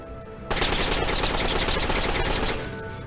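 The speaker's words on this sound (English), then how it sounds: "he's strafing us now" Sustained burst of automatic gunfire from an aircraft strafing run in a video game, erupting suddenly and rattling loudly and continuously for about two seconds before tapering off.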